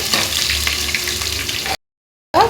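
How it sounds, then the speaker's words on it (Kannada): Crushed garlic and ginger hit hot oil with whole garam masala spices in a pan, giving a loud, steady sizzle for under two seconds before a sudden silence, then a brief burst of frying sound returns. "ಇವಾಗ ಜಜ್ಜಿಟ್ಕೊಂಡಂತಹ ಬೆಳ್ಳುಳ್ಳಿ ಶುಂಠಿನ ಹಾಕ್ತಾ ಇದ್ದೀನಿ"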